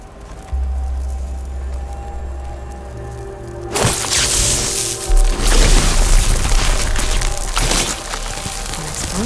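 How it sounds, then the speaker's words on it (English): Explosion in the video game Horizon Forbidden West, a sudden loud boom that bursts in mid-clip followed by rolling crashes and rumbling debris over a low game ambience. "An explosion."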